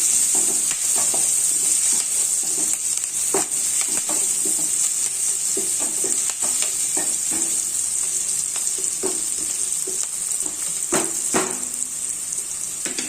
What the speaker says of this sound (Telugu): బెండకాయలు ఇది తాలింపు వేగుతుంది